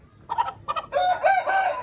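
Farmyard chickens and a rooster: a close, loud crow rises over clucking hens, short choppy calls giving way to a drawn-out cock-a-doodle-doo, with no talking.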